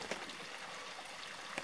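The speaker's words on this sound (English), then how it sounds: "The water is flowing." Water in a creek near Hobart Reservoir runs in a faint, soft continuous trickle, quiet and somewhat distant, with a few small splashy bursts.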